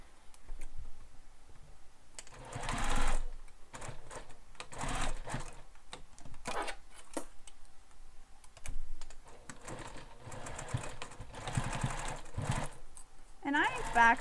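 A sewing machine stitches a crossbody bag in repeated whirring bursts of varying length, with short pauses between runs, close and moderately loud.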